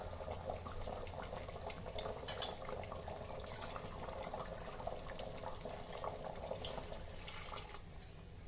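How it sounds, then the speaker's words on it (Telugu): Water is poured into a biryani pot as a continuous, faint rushing splash that runs steadily for several seconds without clear breaks, heard alone with no talking. "ఇప్పుడు దీంట్లో మిగతా 3 గ్లాస్ వాటర్ యాడ్ చేసుకుందాం."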